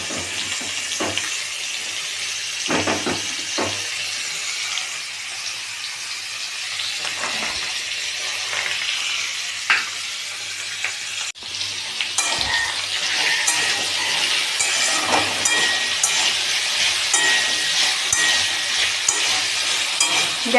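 Vegetables sizzle and fry in a pan over a low-to-medium gas flame, with steady frying hiss, intermittent stirring scrapes and a brief tap-water rush, the sizzle growing louder and brighter in the second half.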